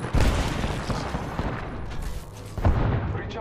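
Explosions and heavy gunfire in a video game featuring Gibraltar, a loud dense barrage with booming blasts near the start and again later, close and continuous.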